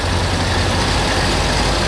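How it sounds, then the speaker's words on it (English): A 1985 Chevrolet Corvette C4 with an L98 V8 engine runs steadily, a loud, dense, even roar close by with no talk. "As you can see, this engine runs strong."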